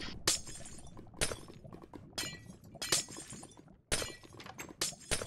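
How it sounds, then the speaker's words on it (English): Glass blocks smashed one after another in Minecraft, a run of about seven bright, crisp shattering crashes at irregular intervals with softer clinks between, no voices. "we're gonna have to start breaking all this glass"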